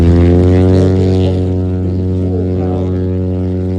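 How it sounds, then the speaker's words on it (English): Floatplane engine and propeller held at full power before takeoff from water, a loud steady drone with strong harmonic hum, easing slightly after the first second and continuing alone without talk. "The flaps are going to drop as he's doing that, and he's going to take off."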